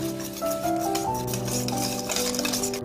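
Banana bread batter of egg, almond flour and baking powder is stirred in a bowl, giving a steady scraping and rubbing with light clinks of a utensil against the bowl, under soft background music.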